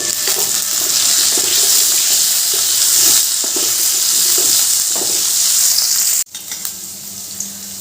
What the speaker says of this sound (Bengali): নুন দিয়ে আলুটা ভালো করে ভাজবো